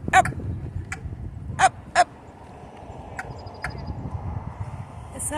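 A crow at Green Lake gives several short harsh, choking-like calls, spaced irregularly over a few seconds against a low outdoor rumble, with someone briefly speaking near the mic.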